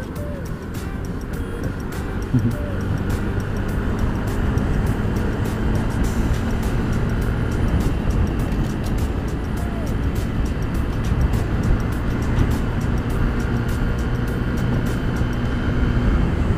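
Stock Yamaha Mio Gravis 125 scooter riding fast, with a steady loud engine drone and heavy wind rush throughout, recorded close from a helmet or bike camera.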